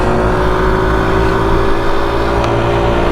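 Several SYM 125cc scooters accelerate together in a drag race on an open road, giving a loud, continuous engine drone with steady tones and constant wind buffeting close to the mic.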